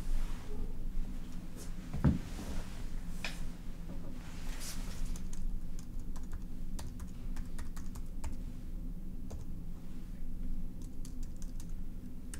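Computer keyboard typing a prescription at a doctor's office, quiet irregular key clicks spread across the whole stretch, with one louder knock early on and denser tapping toward the end.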